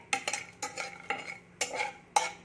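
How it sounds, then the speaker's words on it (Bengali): Peanuts lightly frying in a spoonful of oil in a wok, with about six sharp spatula scrapes and clinks at an uneven rhythm, close and fairly quiet, and no talking. "এই বাদামটাকে আমি একটু ভেজে নেবো হালকা করে"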